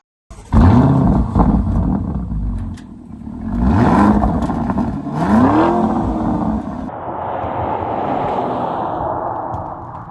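Lamborghini Urus Performante with a twin-turbo V8 accelerating hard, its loud rising engine roar climbing through the gears with distinct upshifts, then settling into a steady cruising drone.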